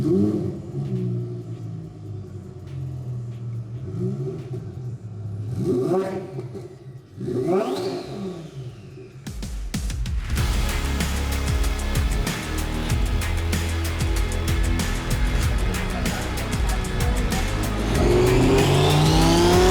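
A twin-turbo Lamborghini Huracán STO is driven on the street, its engine revving in rising, falling sweeps and then roaring hard under sustained acceleration, loud and close from inside the car.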